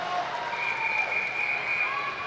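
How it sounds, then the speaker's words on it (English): Faint, steady applause fills an indoor pool at the YMCA Long Course National Championships swim meet in Greensboro, North Carolina, a continuous wash of clapping with thin tonal sounds running over it. "Once again, big round of applause."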